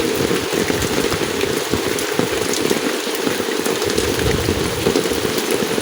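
Heavy rain pours down steadily on a flooded village, a dense, constant hiss with patter on surfaces, loud and close, without voices or pauses.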